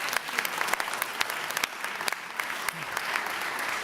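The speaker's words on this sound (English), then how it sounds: "Another round of applause for all of these teams." Sustained applause from an audience at a student venture competition final round, steady dense clapping for the competing teams, near and loud throughout.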